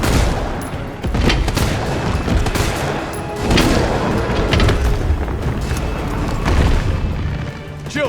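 Gunfire in Resident Evil 3 Remake with Jill Valentine blasting a boss, loud booming shots and rapid rounds layered thickly over game music and effects for the full stretch, with no talk.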